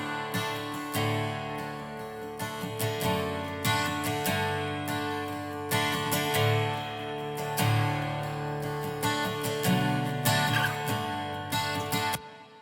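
Double-tracked acoustic guitars tuned to DADADD, strummed in a steady rhythmic pattern of bright, ringing chords in D for a worship-song intro, full and continuous throughout.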